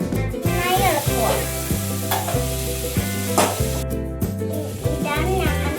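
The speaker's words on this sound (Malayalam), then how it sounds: "നന്നായി ഇളക്കുക." Prawn masala with tomato, turmeric and chilli powder sizzles in a pan, stirred with scraping strokes, while steady tonal background music plays underneath.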